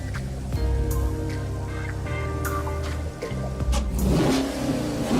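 Dodge Viper engine in the racing game Gran Turismo Sport, a loud, deep V10 growl revving up and down through gear changes, with a brief dip before climbing again.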